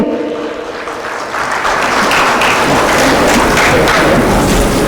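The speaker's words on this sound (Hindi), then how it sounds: "हम इनका स्वागत करते हैं बहुत जोर जोर से, प्लीज तालियां" A crowd claps loudly and continuously at an International Women's Day event, the applause swelling after the first second and holding strong to the end, close and dense.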